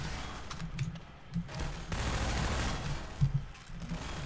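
Bursts of gunfire from the video game Minerva Metastasis, several rapid volleys and single shots crackling at moderate volume across the clip, with no talking.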